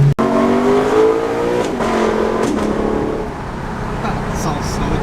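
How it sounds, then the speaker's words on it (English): A 2018 Lexus LC500 V8 engine revs loudly through its aftermarket-louder exhaust, a sustained rising drone that settles into a steady idle-like rumble, heard up close with people talking over it. "Oh, it sounds so good with the exhaust."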